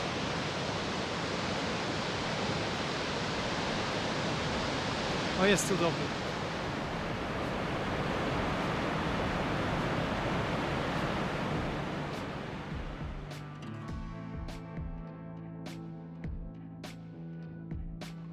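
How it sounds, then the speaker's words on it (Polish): Waterfall at Åmotan, where four rivers meet, roars as a loud, steady rush of falling water close by. It thins out toward the end while someone briefly speaks. "ostatni rzut oka na ten piękny wodospad"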